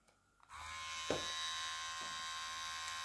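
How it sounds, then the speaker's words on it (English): A Daling DL 1316 electric hair trimmer switches on and runs with a close, steady buzzing hum, with faint clicks and handling knocks over it and no speech. "It's not a fast trimmer,"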